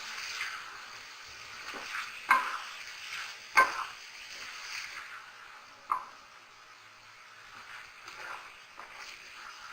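Maash daal stirred in a pan with a spoon, a quiet, soft scraping swish under a low sizzle, broken by a few sharper knocks against the pan.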